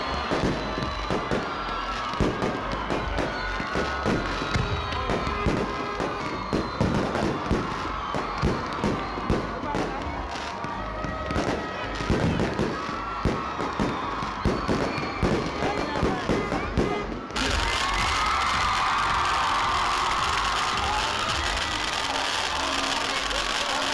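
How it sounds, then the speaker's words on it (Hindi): Fireworks display in a stadium during the Sibi fair, with repeated sharp bursts and pops crackling over a constant crowd murmur, then a steadier roar of crowd noise in the final seconds. "सरदार जाकिर खान डोम की स्टेडियम में आतिशबाजी का शानदार मुजाहरा किया गया।"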